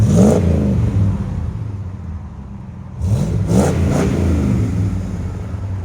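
A 1993 Ford F-150 single-cab pickup's 5.0L V8 rumbles at idle through its Magnaflow exhaust, with a quick rev at the start and a pair of sharp throttle blips near the end, loud and close.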